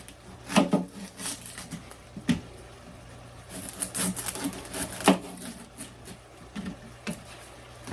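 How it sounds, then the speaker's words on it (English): A knife slices through an onion on a cutting board, a series of irregular crisp taps and cuts, near and fairly soft, with a faint steady hum underneath. "I slice off each end of my onion, then I cut it in half."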